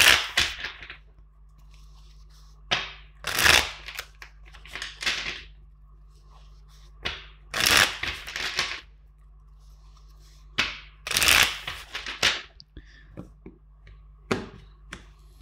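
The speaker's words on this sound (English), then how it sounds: "let's shuffle four times the deck" Tarot card deck being shuffled, several separate bursts of riffling cards about every few seconds, close and crisp against a quiet background.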